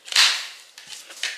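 A single sharp firecracker bang followed by a short crackling hiss that fades out.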